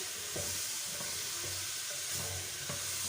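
Arbi masala roasting over a slow flame in a pan hisses in a steady close sizzle, broken by soft, regular stirring strokes roughly every half second.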